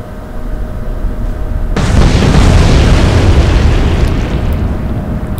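Torpedo strikes on the destroyer Javelin in the naval game Atlantic Fleet, a sudden massive explosion breaking in after a quieter stretch, then a long, loud, rumbling roar that slowly fades.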